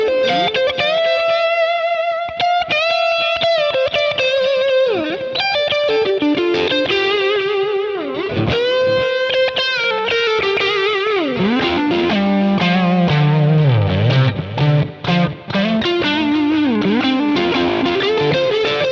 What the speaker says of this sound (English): Soaring lead tones.